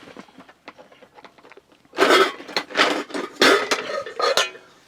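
Non-stick pans are handled inside a motorhome, giving several close, loud metallic clanks and scrapes in quick bursts after some quieter rustling and small knocks.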